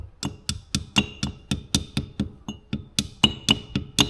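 Sharp metallic taps from a hammer striking a dull chisel as it works the dust seal out of a Hitachi EX200 excavator stick cylinder, about four evenly spaced blows per second, close and ringing, with no talk.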